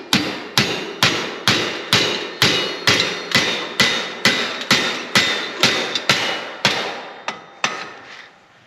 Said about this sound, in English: Just gonna hammer this around.